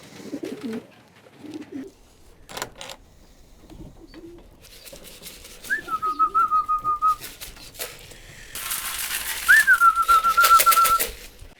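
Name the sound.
man whistling and shaking food tin to call pigeons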